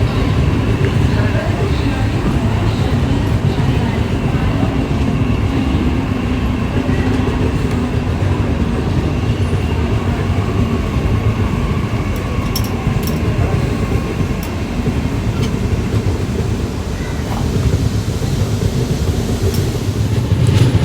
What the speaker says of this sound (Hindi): लोकल ट्रेन के साथ हमारा पैरेलल रन देखने को मिला।